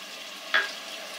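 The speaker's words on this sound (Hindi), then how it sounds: "इनको सबको अच्छी तरह से भून लेते हैं। आराम आराम से इनको हम भूनते हैं।" Tomatoes, salt and spices frying on a low flame for vegetable pulao: a continuous soft sizzle with a brief, brighter crackle near the middle, close and steady.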